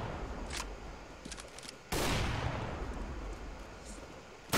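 Gunfire in CS:GO, a sharp loud shot-like crack halfway through followed by a lingering noisy tail, with faint earlier pops and a final burst at the end.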